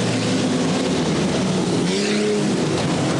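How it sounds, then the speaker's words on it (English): A stock car coming down the straight at a club stock car race, with a loud, continuous engine roar that stays close and rises slightly in pitch as it accelerates. "here's the leader coming down the straight now"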